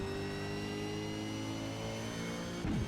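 An Australian Supercar in iRacing holds a loud, steady engine note with strong harmonics as it runs on throttle, then shifts with a quick pitch sweep near the end. No voices are heard.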